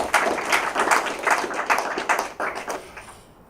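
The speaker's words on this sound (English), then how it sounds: "let's give them a round of applause" An audience at a programming conference talk on recursion schemes claps in a dense, lively round of applause that swells briefly and then tapers off.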